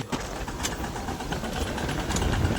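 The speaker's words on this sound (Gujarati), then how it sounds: "અહીંથી ટ્રેક્ટર નીકળી ગયું" A tractor engine runs steadily through a groundnut field, a continuous broadband rumble holding near and fairly loud with no pauses and no voices.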